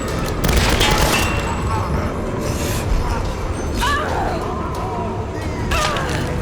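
Dense gunfire and booming blasts in a Tomb Raider fight, with a loud, continuous volley of shots and impacts throughout and a few sharp cracks standing out above the din.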